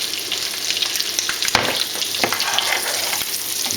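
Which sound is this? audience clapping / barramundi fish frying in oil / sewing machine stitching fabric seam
barramundi fish frying in oil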